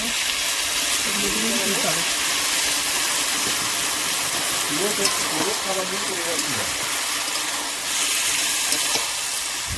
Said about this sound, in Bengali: কষা হয়ে গেছে জল দিয়ে দিচ্ছি আর একদম সামান্য জল দিয়ে নিয়ে